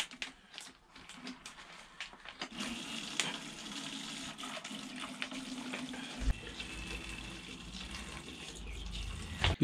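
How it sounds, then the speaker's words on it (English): Coolant pours out of a Yamaha R1 radiator with the cap opened during a silicone hose install, a steady splashing liquid flow that grows fuller and louder in the second half, close by with no talking. "You're gonna see how the coolant start to come out fast."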